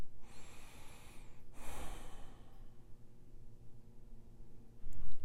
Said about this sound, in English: And now take a breath in.